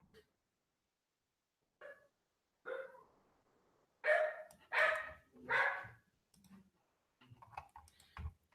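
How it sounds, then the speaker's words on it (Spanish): A small neighbor's dog barks next door in a few short, yapping bursts, three of them loud and close together in the middle, with faint clicking and keyboard typing between them and no talking. "ese es el perrito de mi vecino"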